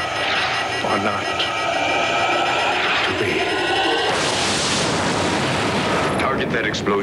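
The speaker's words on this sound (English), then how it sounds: "Get that explosion and fire." An explosion and fire sound effect cued during school morning announcements: loud crackling rumble building and then a harsh burst that roars on, with voices partly mixed in underneath.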